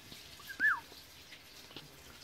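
A pet bird gives one short, clear whistled call, fairly near and alone against a quiet room, with a few faint ticks afterward.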